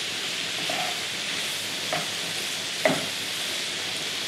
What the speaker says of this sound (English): let's just keep stirring the sausage and peppers and onions